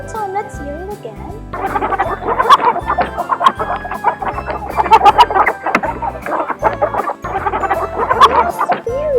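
Repeated hen clucking comes in short bursts over a steady, upbeat children's music track, with the calls fairly close and loud throughout.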